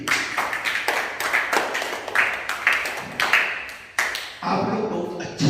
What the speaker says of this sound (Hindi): अपने लिए ताली बजाइए, अपने लिए।